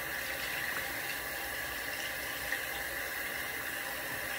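Hands rinsed under a running tap during a handwashing step before reconstituting a pediatric suspension, a steady, even hiss of flowing water at moderate distance, unbroken throughout, with no talking.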